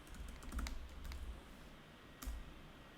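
Quiet clicks of keys on a computer keyboard as a password is typed, in a few short bursts with a pause between them, close by and faint.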